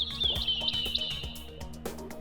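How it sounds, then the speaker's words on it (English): Several birds chirp and tweet in quick, bright bursts, fairly close, with faint background noise beneath. "try listening to the birds"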